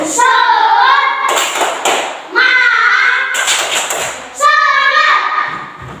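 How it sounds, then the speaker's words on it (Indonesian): Children clap a rhythmic classroom cheer routine, bursts of claps alternating with chanted group speech, close and loud in a room. "Tepuk semangat."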